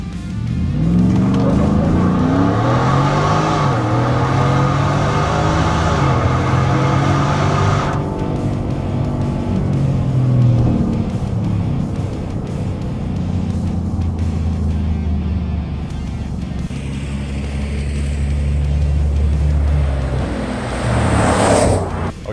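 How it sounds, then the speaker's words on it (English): A 700-horsepower shop truck makes a four-wheel-drive launch on a closed course, its engine roaring loud and close as it revs hard through rising, shifting tones for about twenty seconds, with no talk over it. "that four-wheel drive launch was violent. The front end was hopping a lot."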